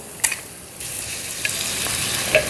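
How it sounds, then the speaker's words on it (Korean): Perilla shoots and onion stir-frying over medium heat make a brisk sizzle, broken by a few clattering stirs of a utensil against the pan, with no talking. "중불 이상 온도에서 어느 정도 수분이 좀 날아가게끔 볶아주시면 되거든요."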